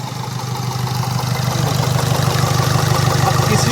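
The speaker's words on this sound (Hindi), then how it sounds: "हमारा इंजन स्टार्ट है बिल्कुल परफेक्टली तरीके से, बिल्कुल हमारा इंजन स्टार्ट है" A Ford Figo diesel engine idles steadily after back-compression repair work with genuine parts, a close, loud, even low rumble with a fast regular pulse and no talk.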